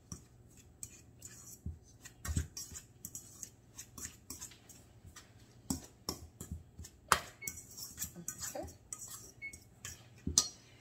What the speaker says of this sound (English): Just making sure this butter is mixing up with the crumbs pretty good